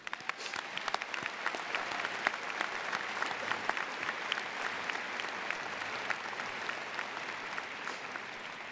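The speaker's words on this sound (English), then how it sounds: "now would be a good time to give them a round of applause for our retirees" A graduation audience gives sustained applause for retiring school staff, a steady, dense clapping from a large crowd heard at some distance, with no talk over it.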